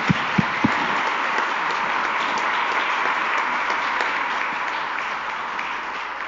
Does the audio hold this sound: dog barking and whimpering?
no